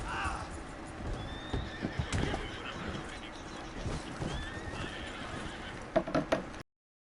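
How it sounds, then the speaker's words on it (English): Horse whinnies and clip-clopping hooves from Red Dead Online, the neighs rising briefly over a busy game mix with steady hoof clatter and scattered thuds, a sharper burst near the end. "it's because there's a horse in front of me"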